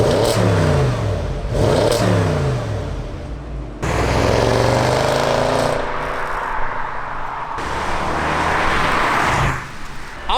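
An Audi S6 with the 4.0T engine and HPA Motorsports downpipes, revved in several loud bursts that rise and drop back to idle between pulls, close up and with no talking.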